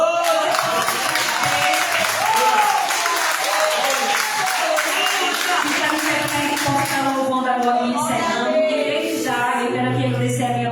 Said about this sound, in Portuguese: Então eu peço que você dê sua melhor salva de palmas.